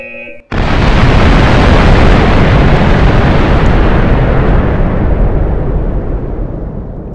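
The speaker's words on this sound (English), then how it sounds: "You can expect a big boom" After a brief tone, a massive nuclear explosion in Minecraft erupts into a loud, sustained roaring rumble that slowly fades over several seconds.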